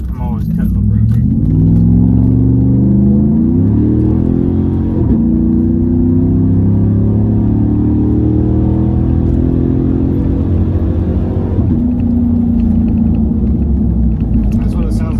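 A 2014-15 Chevrolet Silverado with no muffler, lifted 9 inches on 37x13.50 tires and 20-inch wheels, accelerates hard with a loud, continuous deep exhaust roar that climbs in pitch and holds steady throughout.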